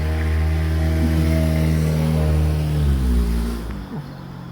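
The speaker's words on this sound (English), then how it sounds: "That's where that van's like, sounds like a motorcycle." A van engine with a rough, motorcycle-like tone runs steadily and fairly loud and close, its pitch holding then dropping as it winds down near the end.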